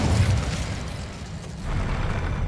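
An Incendio fire spell is cast in Hogwarts Legacy, giving a loud, dense roaring burst of flame with a deep rumbling body that dips briefly and swells again.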